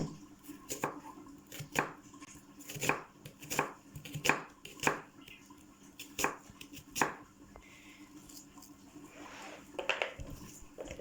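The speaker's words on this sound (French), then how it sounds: "Préparer mes oignons." Onions being chopped with a knife on a board, a dozen or so sharp, evenly spaced chops ringing out close and clear with no talk over them.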